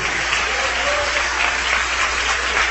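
A church congregation claps in steady, dense applause that holds at an even level throughout, with no break or swell.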